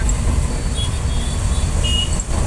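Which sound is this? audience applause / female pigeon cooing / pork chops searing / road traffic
road traffic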